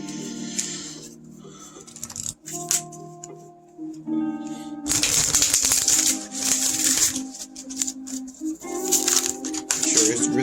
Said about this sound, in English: Make sure it's really shuffled nice and well.